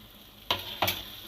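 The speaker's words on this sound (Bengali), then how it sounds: "ভালো করে এটা ভাজা ভাজা করব" A chicken filling for kachori fries in a pan with a soft, steady sizzle, broken by two distinct spatula scrapes close together.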